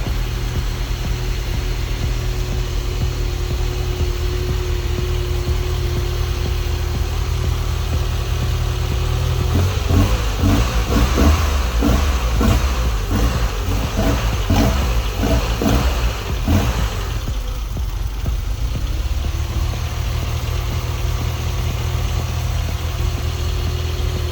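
A car engine fitted with a custom 3D-printed intake manifold idles steadily, then revs with a pulsing rise in the middle before settling back to a low, even idle, close and loud with no speech.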